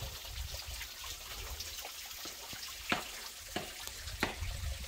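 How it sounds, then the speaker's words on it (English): Small desert foothills waterfall trickling and splashing steadily over rocks, a soft continuous wash with occasional brighter drips and splashes, fairly close, with some wind noise and no talking. "not a big waterfall, but a relaxing sound"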